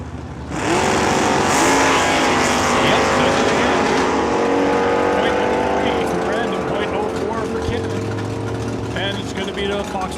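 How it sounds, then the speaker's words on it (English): Foxbody Mustang drag racing down the strip at Saskatchewan International Raceway test and tune, a loud, sustained engine roar rising through the gears as the car pulls away, with an announcer talking over it. "Foxbody Mustang heading through the top end first, 920 at 146."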